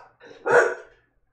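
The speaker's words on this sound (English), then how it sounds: "She's such a good guard dog, man." A female guard dog lets out a single sharp bark, close and fairly loud, with a softer lead-in sound just before it and quiet afterwards.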